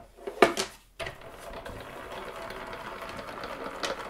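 A die-cutting machine for papercraft cards clicks and clunks as it is set going, then grinds on with a steady, fairly quiet mechanical whir as the die runs through, with no talk over it.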